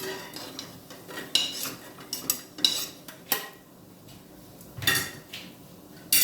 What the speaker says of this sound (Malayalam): ഇത് നമുക്ക് ചെറുതായിട്ടൊന്ന് മൂപ്പിച്ചെടുക്കാം. നന്നായിട്ടൊന്ന് മൂക്കണം.